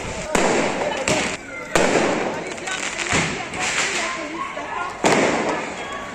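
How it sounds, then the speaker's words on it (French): Firework mortars are launched in a town centre during unrest, sounding as several sharp, loud booming thumps spread irregularly over a few seconds amid crowd noise and voices. "ça tire au mortier juste là"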